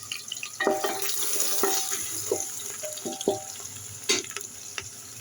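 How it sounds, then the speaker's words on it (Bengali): Chopped onions frying in a pan until reddened, a soft hiss beneath occasional spatula knocks and scrapes, fairly quiet and close, with no speech. "পেঁয়াজটা ভাজবো যতক্ষণ না লাল হয়"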